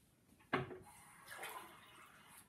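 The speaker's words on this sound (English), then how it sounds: "Just gonna get some more water." Water pours into a container at close range, starting with a sudden splash and settling into a softer, steady trickle that fades toward the end.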